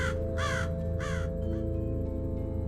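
Scavenging birds gather over bodies of the dead left on a high rock; three loud, harsh caws ring out close in quick succession, then give way to a low steady background drone.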